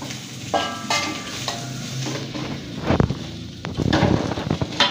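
Rice sizzles and fries in a hot wok while a spatula scrapes and clanks repeatedly, stirring in irregular bursts, loud and close.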